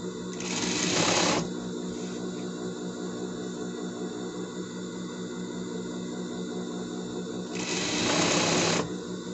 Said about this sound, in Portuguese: Você pode fazer isso aqui na overlock também